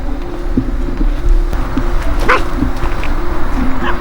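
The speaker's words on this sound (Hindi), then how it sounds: "अपने ऊपर ही भौंक रहा है।" A dog barks outdoors in Pune at night, a few short barks spaced out over steady low traffic rumble and ambient noise, moderately distant.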